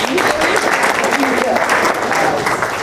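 Audience applause at a chamber of commerce gathering, a steady round of clapping from a modest crowd that carries evenly throughout, with a voice talking over it.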